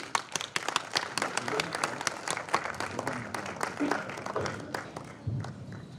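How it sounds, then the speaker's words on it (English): Conference audience applauding speakers at a national radiographers' meeting, with sustained clapping throughout, dense and steady under a loud voice talking over it. "A huge round of applause for the speakers of this session, please."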